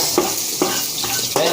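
Onions sizzle and fry in a hot pan, with a few quick stirring scrapes landing at a steady rhythm over the continuous crackle.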